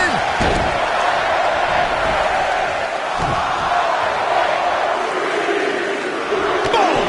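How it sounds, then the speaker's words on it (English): Arena crowd in WWE 2K19 roaring steadily during a Royal Rumble match, a loud dense wall of voices with rhythmic chanting swells and a couple of sharp impacts. "Listen to this crowd count the next one in!"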